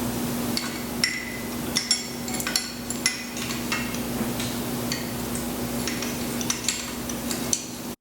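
Metal clanks, taps and clinks while a turbo is worked loose from a Nissan 300ZX Z32 twin-turbo engine, a run of sharp tool-on-metal knocks over a steady hum, close and fairly loud, with no talk.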